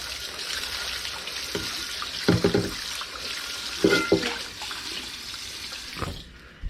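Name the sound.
rinsing a wok under running water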